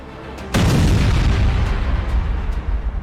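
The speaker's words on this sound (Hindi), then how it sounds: "तेहरान पर बम बरस रहे हैं, इजराइल पर मिसाइलें गिर रही है" Heavy bomb blast during an aerial bombardment of Tehran: a sudden loud boom at about half a second, followed by a long, rolling low rumble that stays strong to the end, with no voices.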